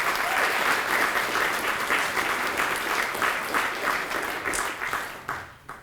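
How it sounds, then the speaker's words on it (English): An audience at the Corrington Award 2024 ceremony claps in steady, dense applause, loud and continuous throughout before thinning and fading out at the very end. "Let's give them a round of applause."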